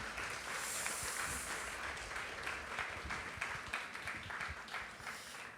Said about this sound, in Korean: 우리 큰 격려에 박수하도록 하겠습니다.